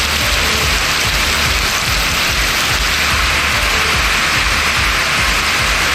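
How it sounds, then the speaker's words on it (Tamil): Heavy rain pours down steadily over Karur, Tamil Nadu, a dense, loud, unbroken hiss with a low rumble beneath, no voices heard. "1 மணி நேரத்திற்கு மேலாக பரவலாக கனமழை கொட்டியது."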